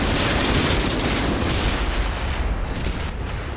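Tank guns fire in the World of Tanks video game, heard as dense, loud, rumbling booms and blasts that fill the short stretch with little pause.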